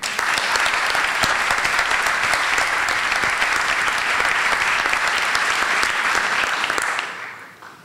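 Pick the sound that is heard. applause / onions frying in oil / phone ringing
applause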